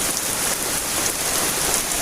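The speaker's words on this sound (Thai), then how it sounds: "มาอาบน้ำฝนครั้งแรกของ ปี2022เลยพี่น้องเนาะ" Steady rain falls hard and close during an outdoor car wash, a dense continuous patter on surfaces with no voices, loud and even throughout.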